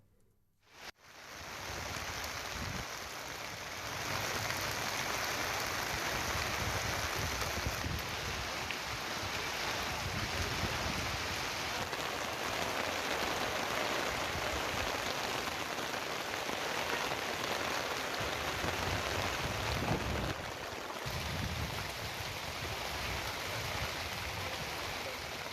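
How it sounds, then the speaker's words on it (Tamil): Heavy rain pours down steadily for a long stretch. It makes a dense, loud hiss of drops drumming on surfaces, starting suddenly and holding constant with no talk. "பல்வேறு பகுதிகளில் 1 மணி நேரத்திற்கு மேலாக கனமழை பெய்தது"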